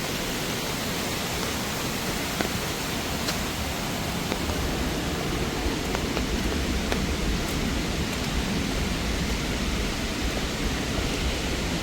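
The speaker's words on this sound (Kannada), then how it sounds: "ವಾಟರ್ ಫಾಲ್ಸ್ ಸೌಂಡು ನಿಮ್ಗೆ ಕೇಳಿಸ್ತಿರ್ಬೇಕು, ಸಿಕ್ಕಾಪಟ್ಟೆ ಆರ್ಭಟ ಮಾಡ್ತಾ ಇದೆ." Burude Falls in Siddapura, Uttara Kannada, Karnataka, a powerful waterfall roaring as a dense, steady wall of noise that fills the whole stretch without a break.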